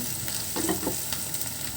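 Onions and garlic frying in a pan, a steady crackling sizzle with a few brief stirring scrapes in the middle, close and fairly loud.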